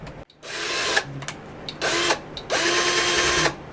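A small power tool with a sanding disc whirs up in several short bursts, stopping and restarting between them.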